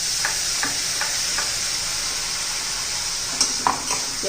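Raw onion paste sautés in hot oil with a loud continuous sizzle, broken by a spoon scraping and clicking against the pan at a loose, regular rhythm.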